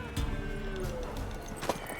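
Hoofbeats and a horse's whinny from a mare in The Witcher 3, steady clip-clop under a busy game soundscape with a brief whinny partway through.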